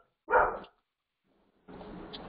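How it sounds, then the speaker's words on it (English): A dog barks once in a short burst, then a stretch of quiet follows, and a longer rough bark-like sound trails off softly at a moderate distance. "Excuse me, that was my dog."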